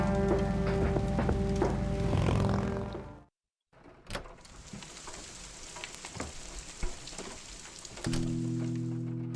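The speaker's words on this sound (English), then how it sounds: "There's nothing quite like the soothing sound of rain falling on a window." Rain falling on a window in the video game Kathy Rain, a steady soft sizzling patter that cuts out briefly and resumes alongside a low music tone.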